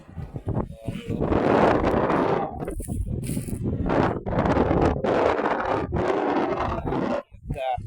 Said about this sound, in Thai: ลมกำลังเริ่มมา